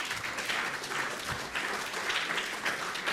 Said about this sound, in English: I don't need applause.